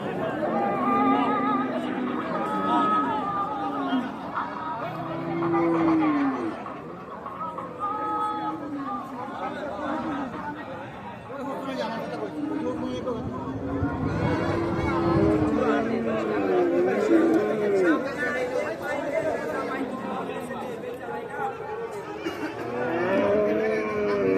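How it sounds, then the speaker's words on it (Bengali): Cows moo repeatedly at the crowded Hazratpur cattle market in Keraniganj, Dhaka. Several drawn-out bellows from near and farther away rise over constant crowd chatter and people talking. "এদিকে সব গাভী গরুগুলো দেখা যাচ্ছে"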